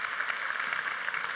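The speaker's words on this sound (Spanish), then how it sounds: "Pues ella es Concha, por favor, un aplauso." Audience applause at a sustainable tourism conference in Spain, a steady dense clapping that fills the whole moment at moderate level with no talk over it.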